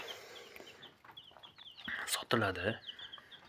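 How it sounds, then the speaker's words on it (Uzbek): Hens and their chicks cluck and peep at close range, rising to a loud burst of clucking near the end, while a person talks alongside. "Mana do'stlar, bu o'sha tovuqlarning jo'jalari"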